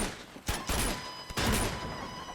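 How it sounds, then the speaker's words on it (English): Gunfire during an Uncharted 2: Among Thieves firefight, two sharp bursts of shots a moment apart, moderately loud over a noisy game backdrop. "Who's shooting at me?"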